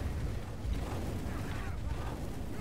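A deep, rumbling explosion in a cooperative zombie-shooter game, a steady low roar filling the moment at moderate distance.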